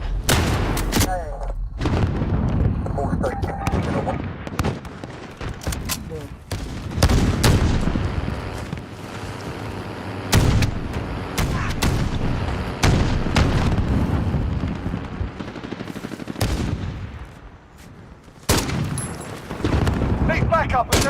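Rapid gunfire bursts and heavy booming explosions in Modern Warfare 2019 multiplayer, loud and near, with dense, overlapping sharp cracks and deep blasts throughout and voices talking over the din.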